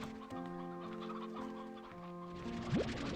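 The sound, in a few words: chickens clucking in Slime Rancher 2 video game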